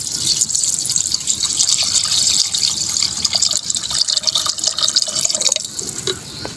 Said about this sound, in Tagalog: dadagdagan na po natin ng tubig